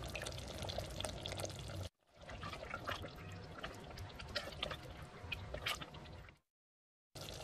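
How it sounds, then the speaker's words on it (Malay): Tamarind juice is poured into a pot of curry with cockles and spice paste, making a close, continuous splashing, trickling stream with a brief break near the start and a pause before it resumes at the end. "Okay, dah boleh masuk air asam jawa tadi ni."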